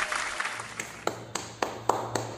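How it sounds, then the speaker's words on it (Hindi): At a poetry recitation event, applause tapers into a few scattered, distinct claps that ring out at fairly regular intervals, close and sharp over a quiet room. "जोरदार तालियां बजाएं"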